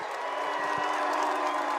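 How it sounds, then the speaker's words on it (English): A dense arena crowd at a World's Strongest Man event roars continuously, a loud sustained wash of massed voices chanting the name Luke, steady throughout without clear breaks. "They're not booing, they're shouting Luke, just so you know."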